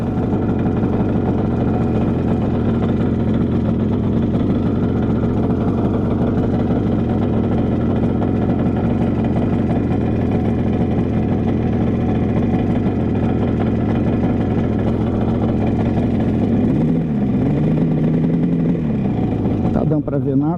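A 1974 Yamaha RD 350 motorcycle idles fast and steadily up close, then blips briefly near the end, while someone talks over the engine throughout.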